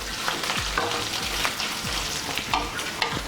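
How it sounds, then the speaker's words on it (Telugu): Curry leaves fry in oil over a low flame, a close, continuous crackling sizzle with light stirring scrapes throughout and no talk. "కరివేపాకు, లో ఫ్లేమ్లో పెట్టుకుని మనం ఫ్రై చేసుకోవాలి."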